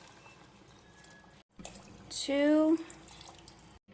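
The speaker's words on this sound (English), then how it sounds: "so I'm going to do 3 cups of water." Water is poured from a cup into a pot of uncooked rice, a brief splashing pour of under a second in a quiet kitchen, with a voice speaking briefly.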